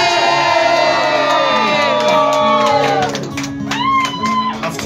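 A live audience cheers loudly with shouts and whoops rising over a sung phrase, then fades slightly before another burst of voices.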